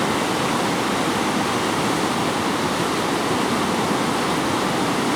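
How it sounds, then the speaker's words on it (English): A raging river torrent roars near the Mandor waterfalls in Peru, a loud, dense, unbroken rush of churning water that fills the whole stretch without a voice. "raging torrent"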